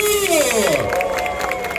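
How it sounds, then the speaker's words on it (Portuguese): An outdoor crowd at a street debate cheers and claps for Brazil's workers. The short burst of crowd noise and clapping is mixed with sliding, whistle-like tones. "Vamos chamar aqui uma salva de palmas para os trabalhadores do Brasil"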